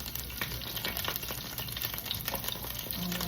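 Garlic fries in a pan for chicken adobo, a steady close sizzle with light stirring crackles and no talk.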